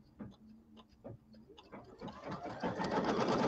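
A few faint clicks give way to a home embroidery machine starting to stitch for a quilt block, a rapid, steady mechanical whirring and tapping that builds and continues close by.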